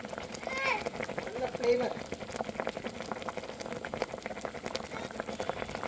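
Country chicken curry gravy bubbles and simmers in a pot, a continuous soft burbling with occasional louder pops, heard under a person talking.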